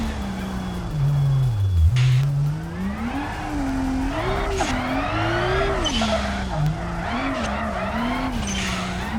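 Car sliding sideways in BeamNG with a sustained engine drone that rises and falls in pitch over a continuous tire squeal, loud and close throughout, with brief bursts of skidding noise.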